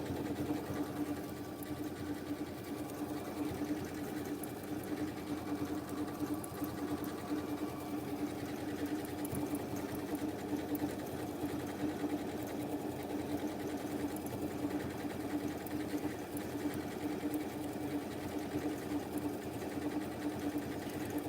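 Sewing machine running a decorative stitch on a spring table mat, a continuous quiet mechanical whirr with a steady, even rhythm and no pauses.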